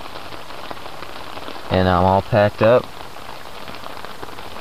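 Rain falling steadily outside, a dense hiss of drops on surfaces continuing throughout, while someone briefly speaks close to the microphone.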